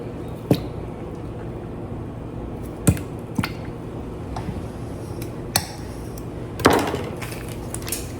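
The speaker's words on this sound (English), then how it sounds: "I'm just gonna cut it up a little bit so that it'll melt quicker." A knife cuts through half a stick of cold butter on a board, a handful of sharp, separate taps and clicks spaced well apart, near and clear against a quiet room.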